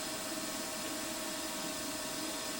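A Warco WM16B milling machine cuts a DRO scale continuously with a steady high-pitched squeal over a dense grinding hiss, loud and unbroken throughout.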